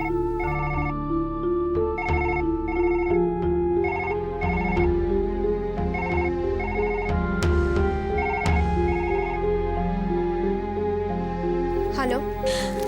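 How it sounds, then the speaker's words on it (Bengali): A telephone rings in a Bengali TV serial scene, its electronic ringtone repeating in short, evenly spaced bursts for several seconds over a steady background music bed. "ফোনটা বাজছে"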